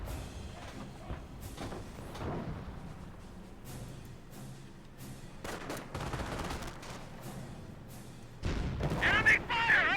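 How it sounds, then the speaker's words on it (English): Artillery and gunfire from the WWII strategy game Company of Heroes, with Nebelwerfer rocket launchers and machine guns firing during a base attack, layered into a dense, continuous barrage with repeated booms and a louder burst near the end, under game voice lines. "Two Nebelwerfers, looks like they're both firing in different locations."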